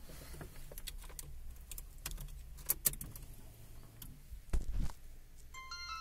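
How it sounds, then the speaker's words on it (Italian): Key jangling and clicking at a car's ignition as it is turned, faint close metallic rattles and ticks in a quiet cabin, ending with a few electronic beeps from a dashcam. "giriamo la chiave"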